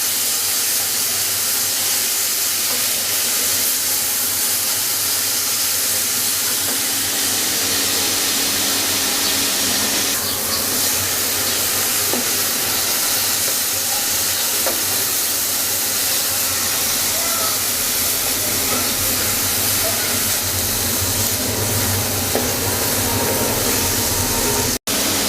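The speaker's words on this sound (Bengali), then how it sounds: "এটাকে আমি 4 থেকে 5 মিনিট পর্যন্ত ঘিয়ের সাথে ভালোভাবে ভেজে নিব।" Grated carrots sizzling in hot ghee in a pan for carrot halwa (gajar ka halwa), a continuous steady hiss of frying that stays even and close, with occasional faint stirring noises.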